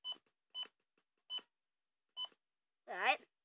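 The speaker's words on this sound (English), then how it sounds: "Beep, beep." A NOAA weather radio gives four short, evenly spaced electronic beeps while being programmed, each quiet and clean against silence. A voice then says a couple of words.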